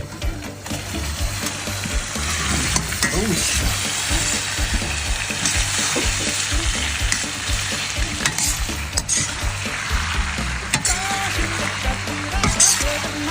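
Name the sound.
stir-frying Mongolian beef with sweet chili sauce in wok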